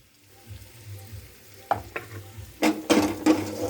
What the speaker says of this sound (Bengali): ধনের গুঁড়োটা দিয়ে একটু নাড়াচাড়া করে নিলাম।